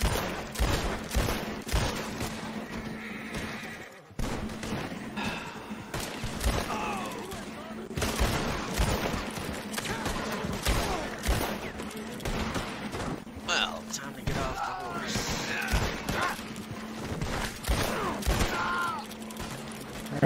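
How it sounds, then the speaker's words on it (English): Dense, continuous gunfire crackles throughout, with rapid overlapping shots and bursts that briefly drop out near the start, while a person talks over the din. "I'm shooting them."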